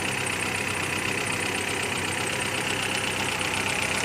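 A 2001 Suzuki Visto millennium car engine idles steadily and quietly nearby, a continuous smooth hum with a faint, even ticking texture and no voices.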